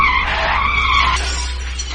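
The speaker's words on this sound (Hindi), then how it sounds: "राकेश घबराहट में अपना बैलेंस खो देता है और बाइक लेकर गिर जाता है।" A motorbike skids as its rider loses balance and falls, in a horror story sound effect: a loud tire squeal over a low engine rumble, sliding for about a second before fading into a duller rumble, with no voices.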